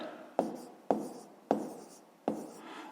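A pen writes on paper in a Ukrainian fifth-grade math lesson, with four quiet, close strokes about half a second apart, each starting with a scratchy attack and trailing off.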